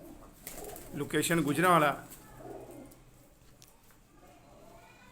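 Pigeons kept for sale in Gujranwala coo in a short burst near the start amid a voice speaking, then only quiet low background follows.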